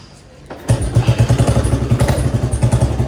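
An old Royal Enfield Bullet motorcycle, freshly restored, starts up after a quiet moment and settles into a loud, close, steady single-cylinder thump with an evenly pulsing rhythm and some mechanical clatter.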